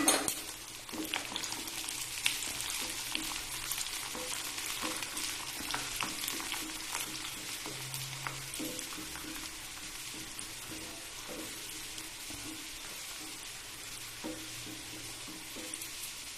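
Minced garlic frying in hot oil, heard as a steady, close sizzle with stirring and occasional utensil clinks against the pan, with no talking.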